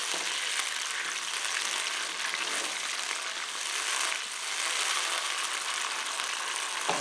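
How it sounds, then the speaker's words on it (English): Pinot Grigio white wine cooks down in a hot pan, giving a steady, even sizzle and hiss that holds at the same level throughout with no voices. "Okay, cook the wine down just for a minute"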